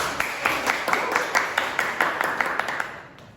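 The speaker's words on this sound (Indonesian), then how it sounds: "Tepuk tangan dulu." A classroom group claps together in a quick, steady rhythm, about three claps per second, that fades out near the end.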